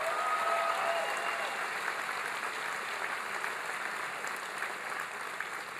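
A large crowd at a presidential health care town hall in Green Bay claps in steady, sustained applause, a dense even roar that never pauses and sounds somewhat distant and soft, with no voices rising above it.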